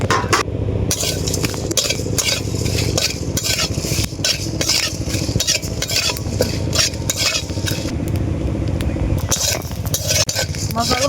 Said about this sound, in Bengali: মশলাগুলো শুকনো কড়াতে ভেজে নেব